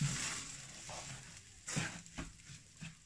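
A spoon stirs bulgur with oil and cumin in a pan, giving soft scraping strokes and faint sizzling, quiet and close, in a few irregular bursts.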